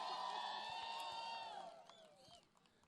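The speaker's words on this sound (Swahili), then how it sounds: "wapi shangwe na vigelegele tafadhali" A crowd cheering with high, wavering ululation trills that ring out loudly at first, then thin and fade, with scattered shouts and voices underneath.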